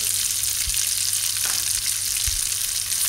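Chili and turmeric powder frying in a hot pan for Bombay potatoes, a steady loud sizzle with two brief stirring scrapes, no voices.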